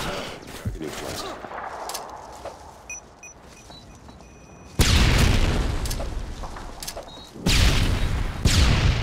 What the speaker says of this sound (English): Toss the stun grenade. Throwing a stun grenade.